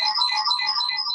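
A phone ringtone plays a bright electronic trill, loud and continuous across the whole moment, with no voices over it.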